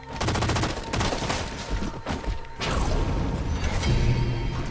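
Rapid gunfire in Halo 4 hammering against a shield, dense crackling bursts with whooshes and metallic impacts, broken by brief gaps and continuing loud throughout.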